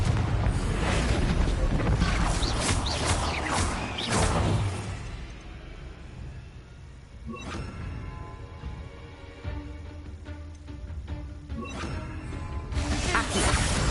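A Confringo blasting spell goes off in the Hogwarts Legacy video game: loud booming, crashing bursts with debris and whooshes, first in a dense cluster, then another sharp hit midway and more blasts toward the end.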